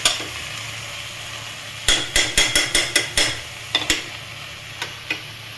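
Chicken pieces tossed into a pan of vegetables for a home-style chicken vegetable stew, with a run of sharp scraping stirs and clatters over a low sizzle, close and fairly loud, then a few softer strokes.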